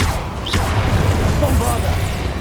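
An Incendio fire spell cast in the Hogwarts Legacy video game, a rumbling whoosh and burst over a constant low roar, with a rising whistle and a few crackling bits; a voice speaks the incantation over it.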